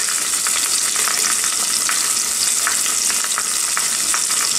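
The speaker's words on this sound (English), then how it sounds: "Saute for a minute." Goat leg sautéing in an Instant Pot, a steady, bright sizzle and crackle of frying meat that holds at an even level throughout with no talking.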